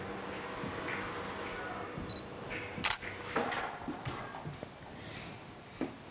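A camera shutter clicks once sharply during a street art painting session, followed by a few softer handling clicks against a quiet room background.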